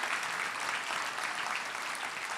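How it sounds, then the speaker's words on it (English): An audience claps at the Stand Up and Cheer 2024 event, a soft, even wash of many hands that stays steady and fairly distant throughout. "You can clap for that."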